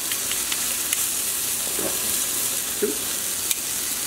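A steak sears in a hot pan, a loud, even sizzle that stays steady throughout with a few faint clicks, and a voice briefly says a word partway through.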